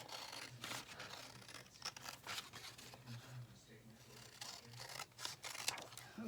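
Scissors snipping through a paper background cut from an index card, a series of faint close crisp cuts and paper rustles spread across the span, with a voice talking softly in places.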